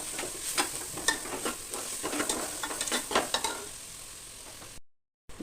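Onions sautéing in a pan until they wilt: a continuous soft sizzle with frequent quick stirring scrapes, close and moderate, then a brief cutout near the end, no speech.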